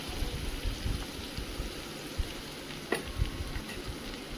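Mustard, cashew and green chilli paste sizzling in a frying pan over low flame, a steady close hiss broken by occasional small pops and crackles, with no talking.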